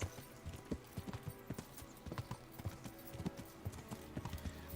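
Horse hooves clip-clop in a steady trotting rhythm in the video game Kingdom Come: Deliverance, close and clear over a faint background hum.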